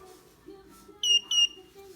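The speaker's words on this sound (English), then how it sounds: "you keep hearing my lamp come on, that's that little beep noise" Two short, high electronic beeps in quick succession from a UV nail lamp switching on, over a low steady hum, clear but not loud.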